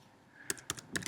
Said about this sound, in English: So you'll type in Wednesday